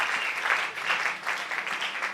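A church congregation applauds and cheers for the Lord, producing steady, moderately distant clapping in a hall, with small swells of intensity and no distinct speech.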